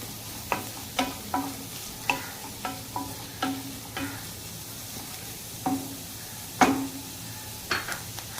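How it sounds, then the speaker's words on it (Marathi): Onion fries in a pan for mushroom soup under a soft, steady sizzle, with about a dozen distinct scraping stirs of a spatula spaced through it. "कांदा छान लाल मऊ गुलाबी मऊसर करून घ्यायचा"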